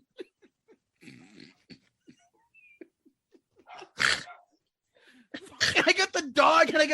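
A dog close by makes soft snuffling, whining and sneeze-like bursts, some sharp and loud, scattered over the stretch with human voices talking near the end.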